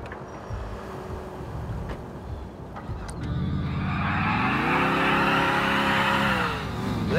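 A car engine from Grand Theft Auto IV gameplay, idling quietly before revving up and holding a loud, rising drone as the vehicle accelerates away, with a brief tire squeal near the start.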